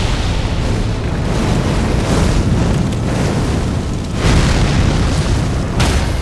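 A loud, sustained explosion roars in the video game Elden Ring, a dense rumbling blast that fills the whole stretch with little letup, heard alone without voices.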